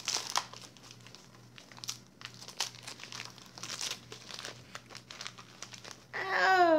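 Holiday gift wrapping is torn open and crumpled by hand, a steady run of close, crinkly paper rustles and rips with sharper tearing bursts, ending in a louder scrunch.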